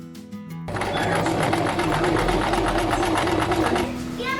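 A sewing machine runs a zigzag stitch to tack ribbons onto a cosplay bodice, a close, steady rapid mechanical whir and clatter that starts abruptly after a brief pause and slows near the end, with a voice talking faintly at times.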